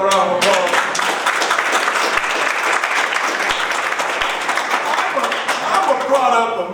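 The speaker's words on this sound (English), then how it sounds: "Please give her another round of applause." Audience applauding at a ribbon cutting ceremony for a university golf course and conference center, a loud sustained round of clapping from a crowd, steady throughout.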